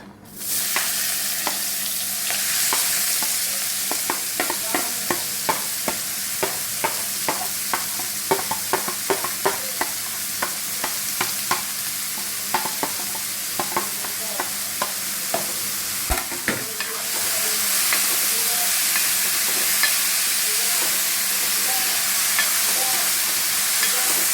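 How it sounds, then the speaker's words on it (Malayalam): Masala dosa filling ingredients fry in hot oil, with a steady sizzling hiss throughout and frequent close stirring scrapes in an irregular rhythm; the sizzle swells louder near the end. "ചൂടായ എണ്ണയിലേക്ക് നമ്മൾ എടുത്ത് വെച്ചേക്കുന്ന അത്രയും സാധനങ്ങളും കൂടെ ഇട്ട് കൊടുക്കുക"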